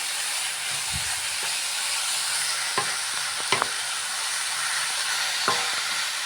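Veg momo filling frying in a pan with green chili sauce and tomato ketchup, a steady loud sizzle and hiss with a few sharp scrapes of stirring scattered through it.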